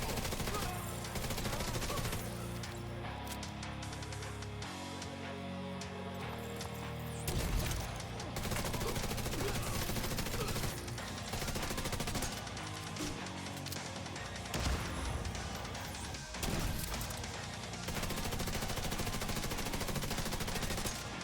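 Gunfire in The Division 2 rattles on throughout in dense automatic bursts with brief gaps, mixed with game music and impact crashes, loud and close.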